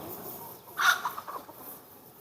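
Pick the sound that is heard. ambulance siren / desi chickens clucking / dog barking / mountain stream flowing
desi chickens clucking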